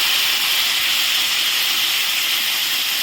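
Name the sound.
cumin, turmeric and coriander paste sizzling in hot oil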